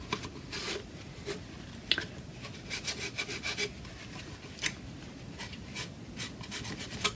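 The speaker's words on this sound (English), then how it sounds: "I'm just doing rubbing on, rubbing off, rubbing on, rubbing off, rubbing on, rubbing off" A napkin rubs wax on and off a lamp surface in steady back-and-forth strokes, a close, soft rhythmic scrubbing that continues without pause.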